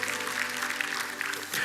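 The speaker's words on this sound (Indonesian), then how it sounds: "Berikan tepuk tangan hanya bagi dia." Church congregation claps in praise during a sermon, a dense, even burst of applause with no voices over it.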